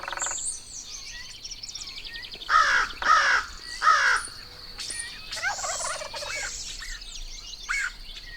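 A wild turkey perched in a cedar tree gobbles in several loud, rattling bursts, fairly close, with other bird calls and chirps scattered through the outdoor background.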